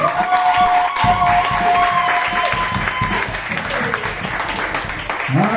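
A church congregation claps and acclaims the Lord, a steady wash of applause with voices mixed in and a sustained tone underneath, continuous throughout.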